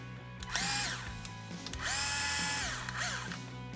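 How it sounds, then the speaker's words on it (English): A power drill fitted with speed bits backs out the screw pins that hold the axles to the transmission output shaft of an SCX10 crawler. It gives three close, whining bursts that rise and fall with ratcheting clicks between them. "get rid of these screw pins here that hold the axles to the transmission output shaft. I'm going to use those speed bits"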